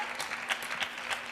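A coach claps his hands courtside during a men's singles match at the 2025 WTT US Smash table tennis tournament: several quick, evenly spaced claps cut through a steady arena crowd murmur.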